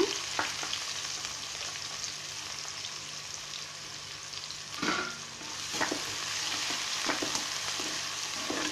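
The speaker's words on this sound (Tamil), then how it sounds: "வெங்காயம் ஒரு 2 நிமிஷம் வதங்கட்டும்." Steady frying sizzle of chopped onions sautéing in a pan with a few stirring scrapes and clinks, moderately close, no talking.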